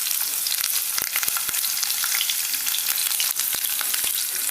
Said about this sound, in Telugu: పచ్చిమిర్చి వేసానండి